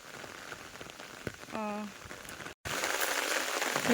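Steady rain patters at a flooded home in the Sundarbans after weeks of downpour, a continuous close hiss with a brief dropout, while a short voice-like tone rises over it.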